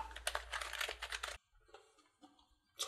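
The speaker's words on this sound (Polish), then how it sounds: "Apex 3 TKL. Nowa i tania klawiatura od SteelSeries, która jest odporna na kurz i zachlapania." Rapid key typing on a SteelSeries Apex 3 TKL, a quiet, dust- and splash-resistant budget keyboard: a dense burst of soft clicks for over a second, then a pause, scattered keystrokes and a final short flurry.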